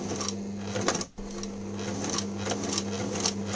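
A sewing machine runs steadily while stitching fabric in a zigzag stitch for a protective face mask, giving a continuous close mechanical hum and clatter with one brief stop near the start.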